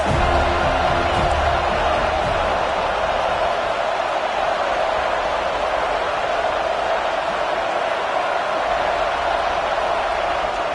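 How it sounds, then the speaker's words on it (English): A football stadium crowd roars continuously as a dense, loud wash of cheering, with no distinct breaks. "This crowd trying to make life miserable for this offense."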